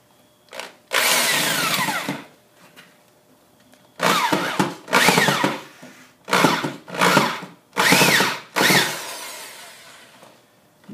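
A power drill drives screws into window hardware in repeated close bursts, each a rising, whining run of a second or so, with short pauses between them.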